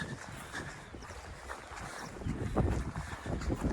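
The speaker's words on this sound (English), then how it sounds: "The wind's just picking up massively." Strong wind blows across a high mountain ridge on the Kentmere horseshoe in the Lake District, a loud continuous rumble and buffeting on the microphone that builds toward the end, with no voices.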